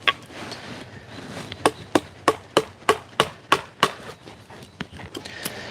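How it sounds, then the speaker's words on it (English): Chisel strikes carving out chunks of avocado wood, a run of about a dozen sharp, evenly paced knocks close by, with scraping and rustle between blows and no talking. "it's a lot easier to chisel out larger pieces of the wood"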